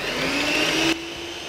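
An electric mixer beats carrot cake batter while oil is added, giving a steady, close motor whirr that cuts off abruptly and leaves a quieter background hum.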